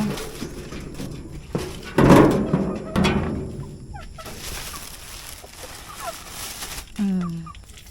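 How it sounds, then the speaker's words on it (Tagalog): Chickens clucking and murmuring around the yard, with a few louder squawks and gobble-like calls over steady outdoor background noise. "Yung aming mga manok."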